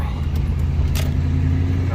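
A 2000 Mustang GT with a Flowmaster 50 exhaust idles steadily nearby, a continuous low rumble, with a voice talking over it.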